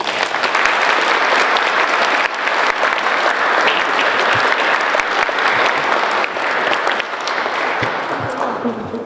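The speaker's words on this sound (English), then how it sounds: "Let's give them one final round of applause." Loud, sustained applause fills the room at an award presentation, dense clapping from a large audience continuing steadily for about nine seconds.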